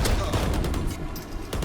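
Rapid bursts of gunfire in the video game Valorant, sharp repeated shots close and loud, with players talking over the shooting.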